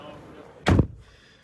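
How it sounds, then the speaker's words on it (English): One solid thud as a 2024 Polestar 3 Long Range Performance car door swings shut, close and loud against a quiet background, then a brief tail. "I'm going to close the doors."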